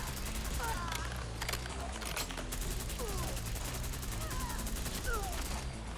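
Krig-C rifle firing in Fallout 4, a burst of shots mixed into steady game music and ambience, with no clear talk over it.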